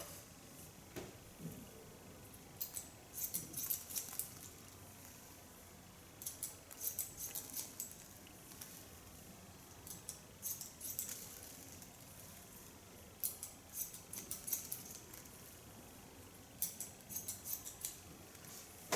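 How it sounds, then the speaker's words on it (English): Scissors snip through a boy's thick, strong hair during a haircut, the blades snapping shut in quick repeated bursts with short pauses between, close and crisp with no talking. "You can hear it on the scissor, because the blades have to work to get through his hair. You hear the snapping of the blades."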